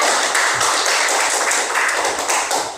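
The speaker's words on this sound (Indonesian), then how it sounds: "Mari kita beri tepuk tangan untuk kelompok 2" Steady applause from a classroom group, dense overlapping claps continuing evenly throughout with no voices standing out.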